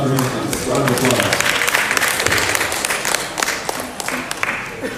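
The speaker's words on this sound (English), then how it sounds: "Let's clap for him. Round of applause." Congregation applause at an Igbo Nigerian Catholic community gathering in Los Angeles, a close crowd clapping with sharp, scattered strikes, while voices talk over the start.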